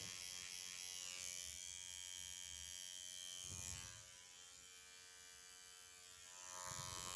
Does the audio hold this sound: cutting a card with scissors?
no